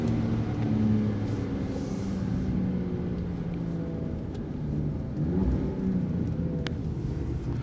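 A Ram RHO truck engine roars through an AWE aftermarket exhaust in a deep, loud, continuous rumble, swelling with revs near the start and again past the middle.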